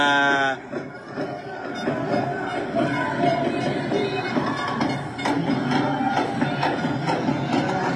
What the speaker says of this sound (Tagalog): yan ang crowd mga kababayan